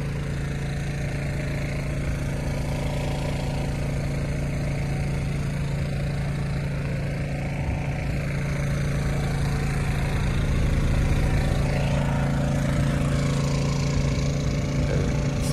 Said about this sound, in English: kind of gave the engine a little goose to blow some of the stuff out of it